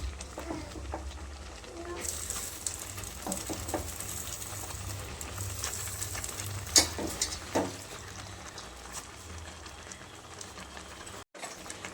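Red-stem spinach and lentils stirred in a pan give a steady bed of scraping and soft sizzling, with occasional sharper clatters of the spoon against the pan.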